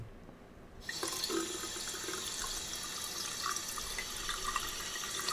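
Hot water runs steadily from a kitchen sink tap in a Parisian flat, a continuous close hiss and splash that starts abruptly after a short quiet moment and holds at an even level.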